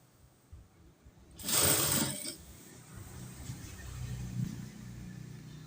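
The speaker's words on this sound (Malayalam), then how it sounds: "നല്ല വശം മുകളിൽ വരുന്ന വിധത്തിൽ ഇതുപോലെ സ്റ്റിച്ച് ചെയ്ത് കൊടുക്കുക" A sewing machine stitches pleats on a nighty in one short, loud whirring burst of under a second, then the room falls back to a quiet low hum.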